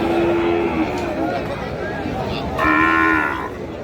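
Sahiwal bulls and calves at a cattle market, lowing loudly in two drawn-out moos over a steady crowd murmur, with people talking nearby.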